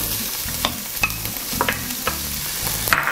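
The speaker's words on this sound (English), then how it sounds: "let's saute the onions" Onions and garlic sauté in hot oil, crackling with a continuous sizzle broken by repeated spatula scrapes and stirring strokes, close and with no talking.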